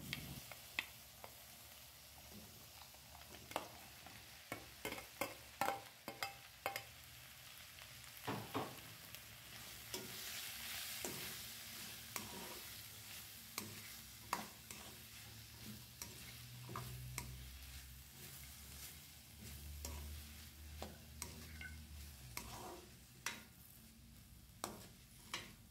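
Cuttlefish curry ingredients, onions with curry leaves, tomatoes and green chilies, fry softly in oil in a pan, with faint sizzling under repeated scraping and clicking of a spoon as they are stirred.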